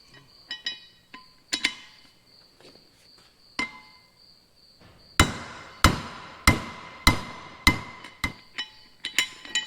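Sharp metallic hammer strikes ring out on a Farmall H tractor's front rim, a few scattered taps first, then a steady run of evenly spaced blows, close and loud.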